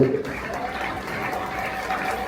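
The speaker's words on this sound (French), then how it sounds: "Je trouve que les acclamations que vous lui donnez sont encore plus faibles que celles que vous avez." Guests at a tenth wedding anniversary celebration applaud and cheer for a pastor, a dense continuous wash of clapping from a crowd filling the room, with a few voices mixed in.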